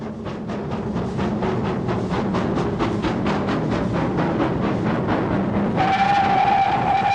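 GWR King class steam locomotive King George V running in 1988, its exhaust beating in a fast, regular chuff rhythm, close and strong, with a high steady whistle tone joining near the end.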